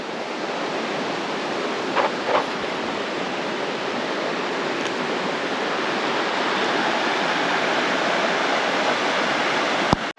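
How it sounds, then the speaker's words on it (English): A small river rapid rushes over solid rock on the Bellinger River, a continuous close hiss of churning water that stays steady and fairly loud throughout, with a couple of faint clicks. "Not exactly a waterfall, but a little rapid over solid rock."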